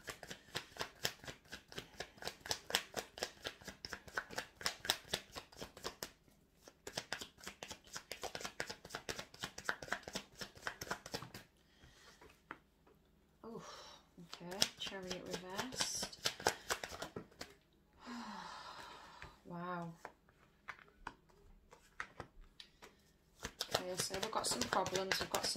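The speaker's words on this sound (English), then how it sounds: "Let's get some cards out, see what's going on for Leah, April 1st through to the 14th." Tarot cards are shuffled close by in long stretches of fast riffling and flapping, broken up by someone speaking in the middle.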